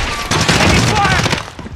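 Dense, loud volley of automatic gunfire in a Call of Duty Modern Warfare team deathmatch, sustained and close with almost no gaps, then tailing off in the final moments.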